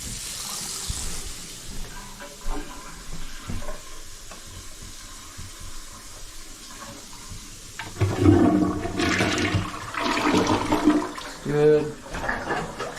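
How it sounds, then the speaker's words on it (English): A toilet flushes during drain pipe and flange repair testing, a loud close rush and gurgle of water after a quieter stretch of room noise and movement, with people talking. "Let's go flush the toilet a bunch of times, run the water upstairs, shower."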